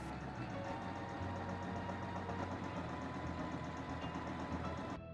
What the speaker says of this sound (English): I just set my machine to the longest stitch length possible and sewed along the edge.